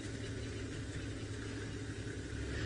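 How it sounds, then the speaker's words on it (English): Safari vehicle engines idle and rumble in the distance in South Africa, a steady low drone with no distinct revs, faint and continuous throughout. "Now you'll hear some other cars in the background."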